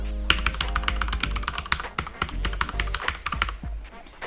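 Someone types rapidly on a HyperX Alloy FPS Pro mechanical keyboard, producing a close, crisp stream of clacking keystrokes in an irregular rhythm, with no voices.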